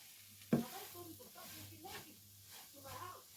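Prawn mixture stirred in a frying pan, a sharp clack of the spoon followed by soft repeated scraping swishes and a low sizzle, with a voice talking over the stirring.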